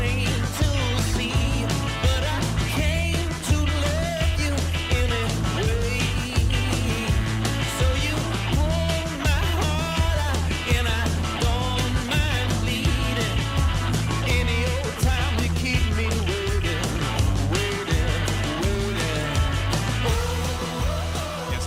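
A rock song plays on the radio as continuous loud music with steady drums, bass and guitars and no talk over it.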